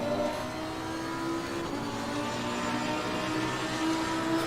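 Porsche race car engine in a racing game at the Hungaroring, a steady sustained drone that holds at a constant level throughout, with no voices over it.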